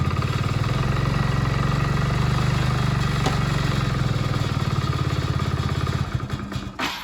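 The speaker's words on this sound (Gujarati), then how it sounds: "આપણે ગાડીને કોલ સ્ટાર્ટ કરી દીધી છે" A Splendor motorcycle engine idles with a steady, throbbing low rumble, close by, then revs and sputters briefly near the end.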